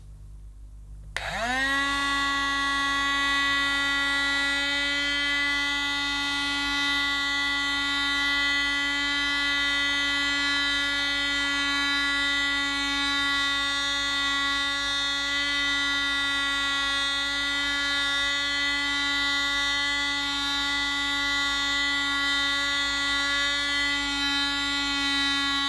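A Casdon Hetty toy handheld vacuum cleaner switches on and runs with a steady, close, high-pitched electric whine that holds unchanged for over twenty seconds while it picks up polystyrene balls, with no talk.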